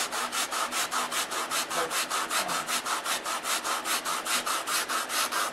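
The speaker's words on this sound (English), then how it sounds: "being careful not to sand onto the wing, we're bringing this down" A sanding block rubs rhythmically back and forth over balsa wood block wingtips on a model wing, a steady, close series of about two dozen scratchy strokes with no talk.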